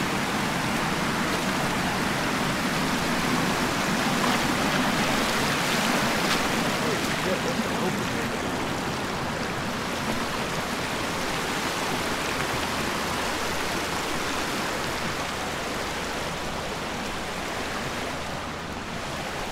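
Nowadaga Creek water flows steadily on a hike, a constant broadband rush that stays loud and even throughout with no break.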